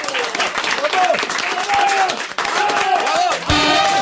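A studio audience applauds steadily, a dense, continuous wash of clapping with some voices mixed in, briefly dipping before rising again.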